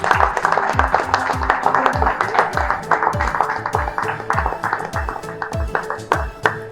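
Applause rings out at a cricket team jersey unveiling on stage, a rhythmic crowd clapping with sharp hits over a steady pulsing beat, while a host talks on a microphone.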